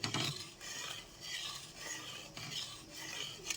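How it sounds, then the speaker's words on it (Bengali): Milk being stirred with a metal spatula (khunti) in a pan while rabri cooks down with sugar, soft repeated scraping and rubbing strokes in a gentle rhythm, fairly quiet and close. "বারে বারে খুন্তি দিয়ে নাড়িয়ে যেতে হবে দুধটাকে"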